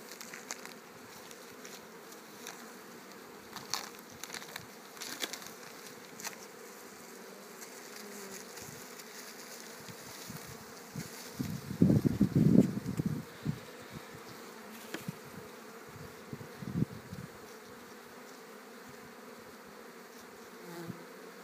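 Honeybees hum steadily around an open hive during varroa treatment, a dense buzzing drone with brief louder swells as bees pass close by, and no one speaking.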